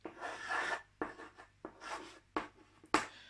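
Handwriting on paper while working a maths correction: a run of scratchy pen strokes, some sustained and some short and quick, close and fairly quiet, with no talking.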